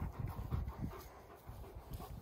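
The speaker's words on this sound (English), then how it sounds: "Underdeveloped dog. Come here, Ridge." A dog panting close by in a farm setting, quick rhythmic breaths repeating throughout, fairly soft and with no talk.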